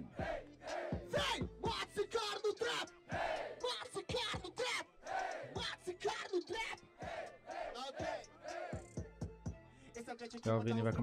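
A crowd at a rap battle yells and whoops in repeated loud bursts, with voices shouting throughout and brief gaps between the outbursts.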